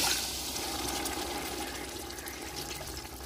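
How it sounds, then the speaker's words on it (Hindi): Water pours into a pan of fried peas while rice is being cooked, a continuous soft splashing and rushing stream that slowly fades, quiet and heard alone. "मटर जो है वो फ्राई हो गए हैं, पानी शामिल कर देते हैं, इसी ज़्यादा पानी डालेंगे।"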